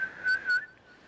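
A voice imitates a faint whistling ringing in the ears, giving two short rising whistle bursts over a steady thin tone, close and alone.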